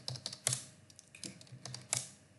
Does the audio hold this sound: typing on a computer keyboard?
yes